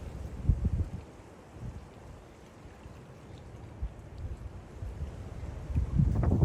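Strong gusty wind blows across Sinah Common lake, a rough broadband rush with louder buffets against the microphone near the start and end.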